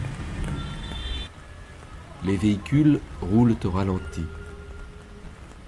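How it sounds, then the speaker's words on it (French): Steady night rain falls on the ground in a broadband wash that runs through the whole clip, stronger at first, while someone speaks over it in the middle. "Les pas se pressent, fuyant pour éviter l'averse."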